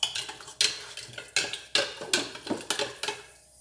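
A soup spoon stirs baking soda into water inside a carafe, clinking repeatedly against the glass in a quick, uneven rhythm of about nine sharp strikes, close and clear with no talking.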